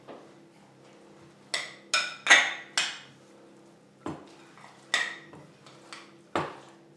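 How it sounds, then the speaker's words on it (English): A utensil clinks and scrapes against a bowl while mayonnaise, a pinch of salt and pepper are mixed together: about eight sharp, separated knocks, close and fairly quiet, with no talking. "all we need to do now is just mix all of that together"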